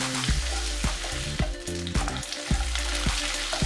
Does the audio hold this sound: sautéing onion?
yes